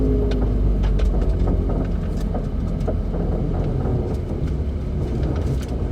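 A turbocharged Subaru BRZ with catless front pipes rumbles loudly and continuously while driving, a deep exhaust roar mixed with road noise and scattered higher crackles and whooshes.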